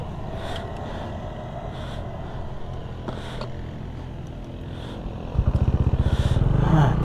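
Loud motorcycles pass close by a riverside campsite on the Marilaque road, a steady low drone that turns into a close, throbbing engine rumble near the end.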